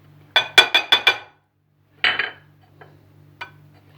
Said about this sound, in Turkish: Soğanımızı döküyoruz